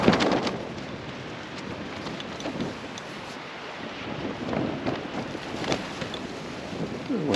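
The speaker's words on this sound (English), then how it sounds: "The wind's starting to pick up a wee bit" Wind rising and gusting around a lightweight Lanshan 2 tent pitched at a winter campsite in -3° conditions at night, a steady broad rush with occasional stronger bursts buffeting the microphone, no voices.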